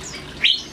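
A white-rumped shama (murai batu) with damaged, ragged feathers gives one short, bright chirp at middle distance, with quiet background before and after.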